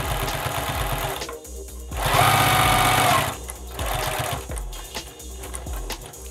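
A sewing machine stitches patchwork fabric, its rapid needle chatter close and steady, rising to a fast, louder run in the middle before slowing again, with no voices.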